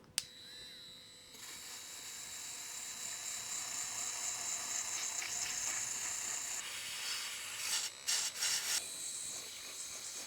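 Cleaning tool and cleaner scrubbing a dirty PS4 case, a steady hissing rub that runs continuously and fairly softly, with a few brief louder scrapes near the end and no voices.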